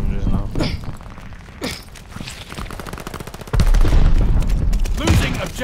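Gunfire in the multiplayer shooter Call of Duty Vanguard, with rapid bursts and loud close shots, some thumps and footsteps, and a voice talking over the action.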